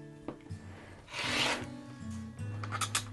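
A rotary or blade cutter scrapes through stacked fabric squares on a quilting cutting mat, one drawn-out rasping stroke in the middle with lighter rubbing and handling sounds around it and a low steady hum underneath.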